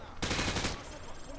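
A loud burst of rapid gunfire in Modern Warfare 2 punches through light cover, lasting about half a second before a quieter, lingering tail.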